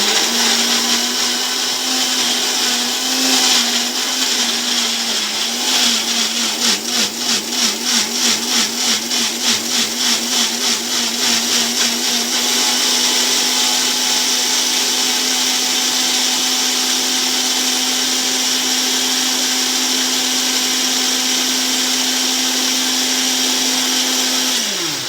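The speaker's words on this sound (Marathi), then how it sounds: "तर दाखवल्याप्रमाणे जे साहित्य आहे त्याचं आपण वाटण करून घेऊ" A mixer grinder whirs steadily, grinding a paste of tomato, ginger, garlic and onion for a prawn gravy; a loud continuous motor drone with a pulsing stretch near the start, running alone to a stop at the end.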